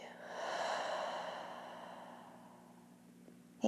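One long, slow breath out through the nose during a yoga breathing exercise, close and gently fading, with a faint steady hum underneath and a short click at the end.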